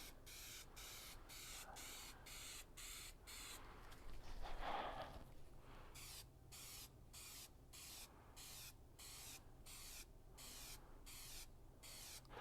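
A spray gun atomizes paint in a garage in quiet, rhythmic hissing bursts, regular short passes with brief gaps between them and a longer continuous stretch in the middle, heard faintly at a distance with no talk over it.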